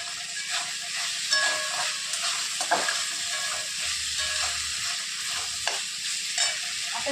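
Leftover chapati pieces are sautéed in a pan with spices for a breakfast dish, producing a constant sizzling hiss punctuated by light scraping and stirring clinks; no speech present.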